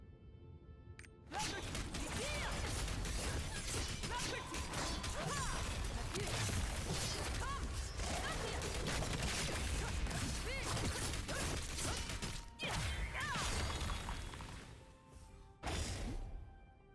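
Video game skill attacks, Soul Absorber and Blitz Rush, fired in one combat rotation as Trixion: a dense, loud barrage of crashing, clanking impacts and whooshes lasting about fifteen seconds, with brief breaks near the end.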